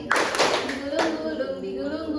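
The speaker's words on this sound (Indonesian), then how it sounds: "Buka, tutup, tepuk tangan lagi." A class of students clapping their hands in a few quick, close claps at the start, followed by children's voices chanting and talking.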